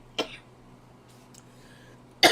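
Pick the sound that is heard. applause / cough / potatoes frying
cough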